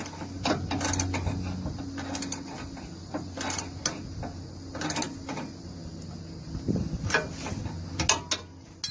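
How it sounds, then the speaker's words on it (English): Ratchet tightening the top nut on a Nissan Frontier stabilizer link while the bottom nut is held, quick runs of close metallic clicks in irregular bursts over a low background hum. "I'm going to use my ratchet to lock the top nut"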